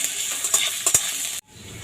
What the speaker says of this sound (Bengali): তেল গরম হয়ে গেছে, এবার পেঁয়াজ ভেজে নেব।